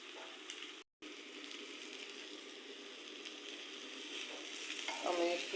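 Food frying in a pan while being stirred now and then, a steady close sizzle with light scraping, the hiss briefly cutting out and then building slightly louder near the end.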